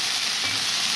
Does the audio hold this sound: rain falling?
no